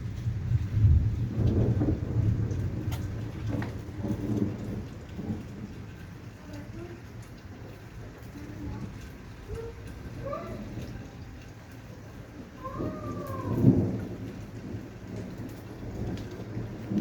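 Thunderstorm in Mirabel in July, with steady rain falling and heavy thunder rumbling, loudest near the start and again as a sharp crack later, a faint voice briefly under it.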